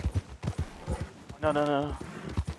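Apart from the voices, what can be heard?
runaway horse galloping in video game Red Dead Redemption 2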